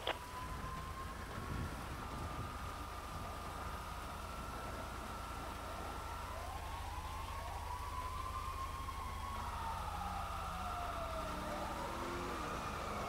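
Emergency vehicle sirens in the video game GTA 5, wailing tones rising and falling over a low steady engine rumble, overlapping sweeps continuing throughout at moderate loudness.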